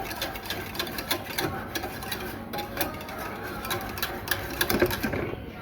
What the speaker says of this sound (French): Continuez de bien fouetter.